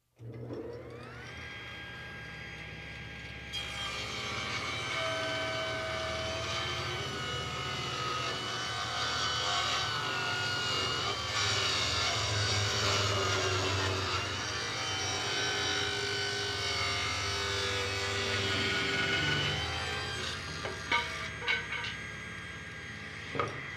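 Restored Delta Unisaw table saw motor starting up and spinning to speed, then a steady loud whine and hum as a board is cut, with the blade winding down near the end.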